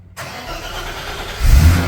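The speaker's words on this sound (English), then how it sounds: "See if this thing starts up." BMW E30 car engine cranks and fires up up close, settling into a steady mid-pitched run before surging louder as it catches fully.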